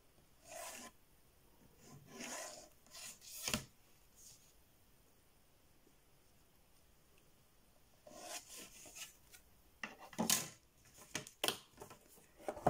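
A line is drawn on cardboard, making soft, dry scratching strokes in two short clusters separated by a quiet pause, close and faint.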